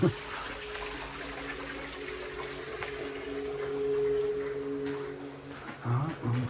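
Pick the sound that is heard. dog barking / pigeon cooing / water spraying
water spraying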